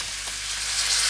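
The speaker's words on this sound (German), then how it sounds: "jetzt muss man auch 2-3 Minuten anbraten" Chicken, tomato and spring onion fry in a pan with a steady, close sizzle that gradually grows a little louder, with no one speaking.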